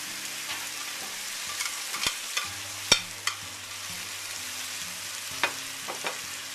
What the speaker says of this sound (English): we're going to toss them on the grill